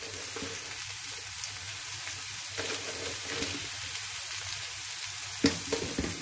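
Sliced ivy gourd sizzles and fries steadily in a pan just after salt is added, a continuous close crackle with occasional stirring scrapes and a sharper clatter near the end.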